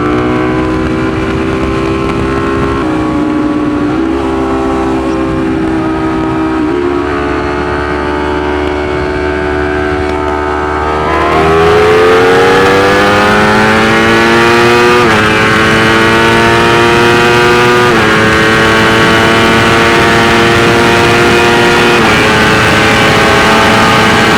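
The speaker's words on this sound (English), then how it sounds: "we are out here on this beautiful Ducati StreetFighter V4" A Ducati Streetfighter V4 motorcycle engine under way, a loud close droning roar that holds steady, then swells and climbs in pitch through rising revs, with no voices over it.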